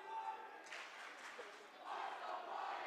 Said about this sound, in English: And now we got the two cheering sections going against each other